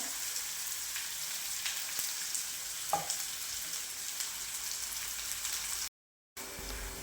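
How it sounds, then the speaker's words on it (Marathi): Finely chopped onion sautés in a pan with cumin seeds while cooking a dried-fish chutney. The hiss is steady and close, with faint stirring scrapes and a brief dropout near the end. "आता लालसर होईपर्यंत आपल्याला कांदा परतून घ्यायचा"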